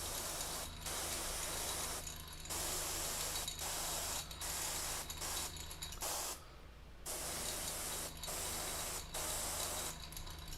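An airbrush sprays paint onto a miniature's armor in repeated hissing bursts separated by short pauses, close and fairly quiet with no voices.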